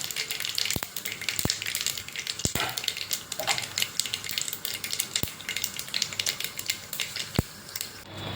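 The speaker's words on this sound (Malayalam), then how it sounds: "കടുക് പൊട്ടി വരുമ്പോൾ അതിലേക്ക് നമുക്കൊരു അര സ്പൂണ് ഉരുവയിട്ട് കൊടുക്കാം" Mustard seeds and fenugreek splutter in hot oil for a bitter gourd pickle, a fizzing sizzle punctuated by sharp irregular pops and crackles, close and steady throughout.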